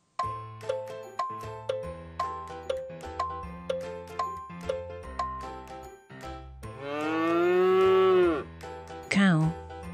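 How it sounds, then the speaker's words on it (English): A cow gives one long, loud, close moo followed by a short grunt, rising over a tinkling music-box melody in a farm animal quiz. "Cow."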